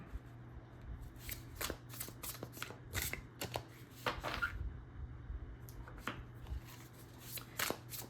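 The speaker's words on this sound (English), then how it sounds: "I'm just shuffling, as you can see. These cards for you." Tarot cards being shuffled by hand, a quiet, close run of irregular riffling bursts and soft slaps spread across the clip with brief pauses, over a faint low hum.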